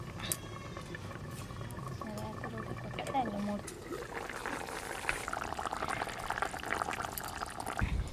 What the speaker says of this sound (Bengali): ইলিশ মাছও প্রায় সেদ্ধ হয়ে এসছে।